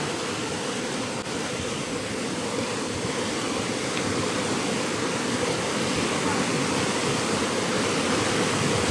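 Gabur-Gabur Falls gives a loud, constant broadband roar of falling water, close by and unbroken throughout.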